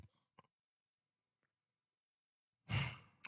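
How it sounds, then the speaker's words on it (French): A person takes a deep breath during a relaxation exercise: a few faint soft breaths and clicks, then a long quiet pause, then one full audible inhale-exhale sigh close to the microphone. "Quelques grandes respirations."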